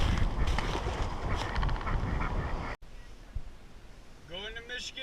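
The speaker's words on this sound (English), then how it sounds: "Why are you chasing the ducks?" Ducks and geese quacking and honking near an amusement park ride, a burst of calls toward the end heard over loud rushing, windy background noise.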